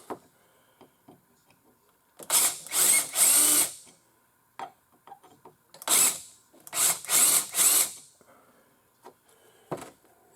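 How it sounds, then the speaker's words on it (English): A drill chamfering holes whirs in short grinding bursts, two clusters of quick spins separated by quiet moments with light clicks and handling sounds. "I'm just taking a drill and chamfering the holes."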